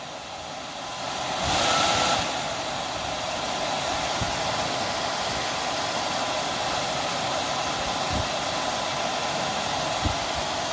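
Steady rushing air from a car heater fan fills the clip, a constant broadband whoosh with a brief louder swell early on, close and unbroken.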